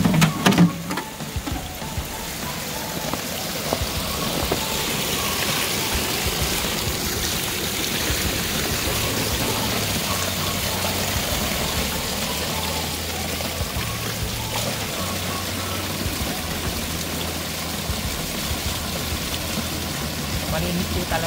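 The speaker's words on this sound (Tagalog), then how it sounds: "Kuha na po tayo ng tubig." Cold natural spring water pours and splashes steadily at Fukidashi Park in Kyogoku, Hokkaido, a continuous close rushing stream with a brief clatter at the start.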